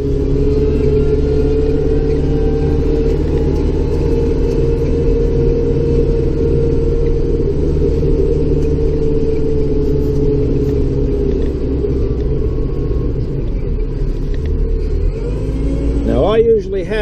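Tractor fitted with a modified Arctic plow blade clearing the first snow, its engine a steady loud low rumble close by that rises briefly near the end, with someone talking over it.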